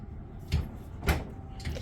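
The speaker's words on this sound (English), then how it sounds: "You push it, and it slides open." A folding sliding door onto a cruise ship's infinite verandah is pushed open, producing a couple of soft rumbling slides and knocks at close range with no one speaking.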